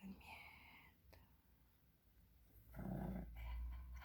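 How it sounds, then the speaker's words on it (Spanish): A sleeping small dog lets out low growling snores, a quiet rumble rising louder near the end of the short stretch, with faint breathy sounds before it and no talk. "Ay, son gruñidos."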